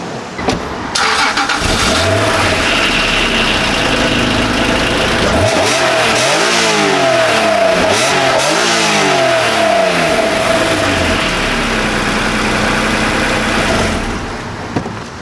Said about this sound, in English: no car review is complete without an exhaust clip